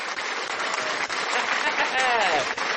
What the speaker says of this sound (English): we're going to have to do a little random clap for that